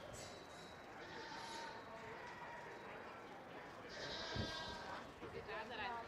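Goats bleat at a county goat show, with several calls rising over steady crowd chatter and a hollow arena din, while people talk nearby.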